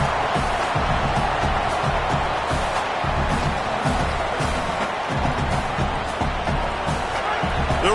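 A loud, steady stadium crowd roars throughout a college football video game, Clemson against Indiana, with commentary voices carrying over the constant wash of noise.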